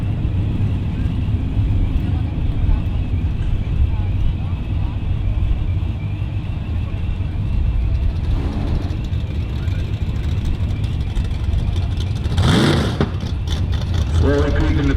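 Boosted box-body drag race cars, one supercharged and one turbocharged, roar loudly at a drag strip, with a sustained engine drone and a sharp burst late on, while an announcer talks throughout.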